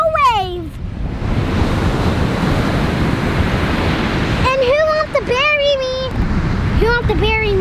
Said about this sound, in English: We made it to the beach. And now look at the beautiful wave.